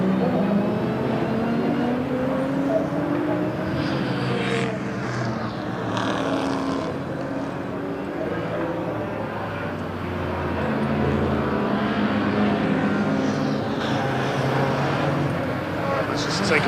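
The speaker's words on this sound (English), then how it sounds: "Take a pause there and listen to these wonderful engines" Racing truck engines roar continuously at Brands Hatch during a British Truck Racing Championship race, a loud sustained drone with pitch shifts as trucks pass, while a commentator talks over it.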